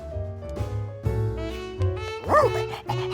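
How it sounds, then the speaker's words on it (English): A cartoon fire dog from a firehouse barks and yips in short bursts, with a brief rising whimper near the end over a light music bed. "And that's our new fire dog, Blaze."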